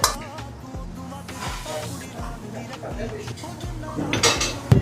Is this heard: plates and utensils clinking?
yes